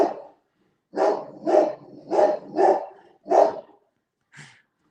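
A pet dog barks six times: five loud, close barks in a rough rhythm, then a pause and one shorter, fainter bark at the end.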